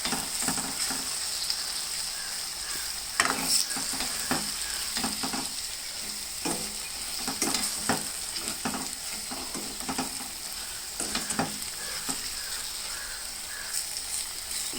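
Cumin, garlic and chili spices sizzle and fry steadily in hot oil for a Telugu-style brinjal (vankaya) curry, with scattered stirring clicks and scrapes over the constant crackle; no voices.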